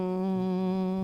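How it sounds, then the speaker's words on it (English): A single steady vocal hum made while breathing out slowly, held at one even pitch with rich overtones for the whole second, close and clear with no other sound. "you are going to breathe out and make a humming sound like this"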